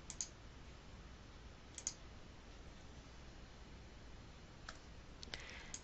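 Mouse clicks while working in RAM Concept structural modeling software: a few sharp, quiet clicks spaced apart over faint background hiss, with no talking.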